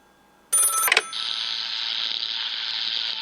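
A telephone bell rings once in a sharp metallic burst, then settles into a steady, fairly loud electronic ring that continues alone without any voices.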